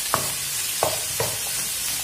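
Onion and garlic hit a hot pan for a quick broth, giving a steady close sizzle with a few brief stirring scrapes, alone without talk.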